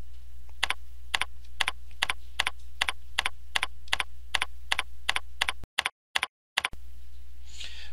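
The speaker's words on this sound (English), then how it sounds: "you can use the up or down arrows located on your keyboard" A computer keyboard's arrow keys are tapped in a steady, evenly spaced run of about seventeen crisp, close clicks to nudge an image in PowerPoint, with a brief dropout near the end.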